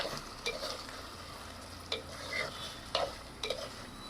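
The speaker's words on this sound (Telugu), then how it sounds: "ఇప్పుడు కరివేపాకు కొంచెం ఫ్రై అయ్యాక చికెన్ వేసేద్దాం ఒక్కసారి ఇలా కలిపేస్తున్నాం చికెన్" Chicken stirred in a pot of oil with fried curry leaves for a dum chicken curry, a soft steady sizzle broken by several sharp scraping stirs spaced through the stretch, no voices.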